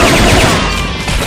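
Rapid, loud bursts of automatic gunfire and rifle shots from a Japanese sniper-themed video game fill the whole moment, a dense continuous fusillade with no pauses.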